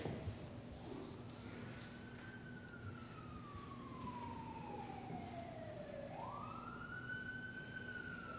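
An emergency siren wails continuously, its pitch sweeping slowly down then jumping back up, over a steady low engine rumble at moderate distance.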